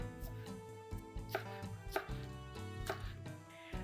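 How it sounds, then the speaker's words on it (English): A knife chops scallions diagonally on a cutting board for a Korean zucchini side dish, giving a series of crisp, close knocks in an uneven rhythm, with no voices. "the last thing you need to do is just cut your scallions"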